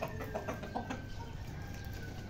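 An Aseel rooster standing nearby clucks in a quick run of short, fairly loud calls at the start, then goes quieter, over steady outdoor background noise.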